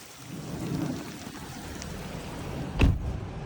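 Heavy rain pours steadily over a lake during a thunderstorm, a dense close hiss broken by one sharp crack of thunder near the end, with no talking.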